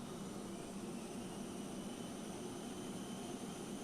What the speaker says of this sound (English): I'll watch the takeoff.